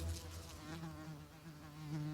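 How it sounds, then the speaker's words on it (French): A housefly buzzes continuously close by indoors, a steady droning hum that swells and fades slightly over a couple of seconds, with no talking. "Il y a une mouche qui est folle."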